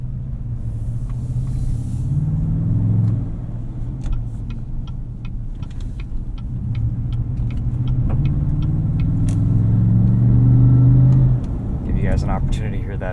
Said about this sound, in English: Give you guys an opportunity to hear that exhaust.